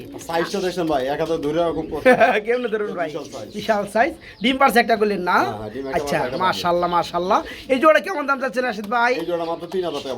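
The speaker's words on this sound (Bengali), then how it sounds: "দেখেন ওদের কবুতর দেখেন" Pigeons, white Jumbo pigeons offered for sale, coo in repeated throaty rolls close by, with someone talking over and between the calls throughout.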